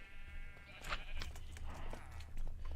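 Sheep bleating in Minecraft on an SMP server sheep farm, a few short game bleats rising over a steady low hum with other game sounds around them.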